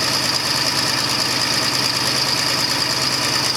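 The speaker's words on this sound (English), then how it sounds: "And then you let your tractor warm up normally." Old tractor engine idling steadily just after an ether-assisted cold start, a constant rough mechanical drone with a faint rhythmic knock, close and loud with no talk over it.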